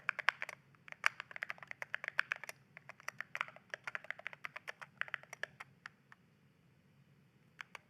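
Rapid keystrokes on a computer keyboard typing out text, a steady run of close, crisp clicks in uneven bursts that thin out toward the end, with no voices.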